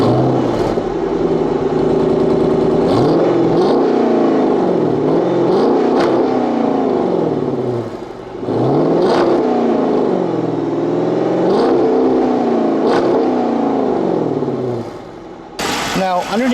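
A 2010 Dodge Challenger R/T with a 5.7-liter Hemi V8 and Corsa exhaust, revved repeatedly in deep rising and falling sweeps over a rumbling idle, loud and close.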